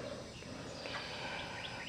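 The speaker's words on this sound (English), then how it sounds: "You can hear the birds chirping" Faint bird chirps rise out of steady outdoor hiss, a few quick upward tweets toward the end, distant.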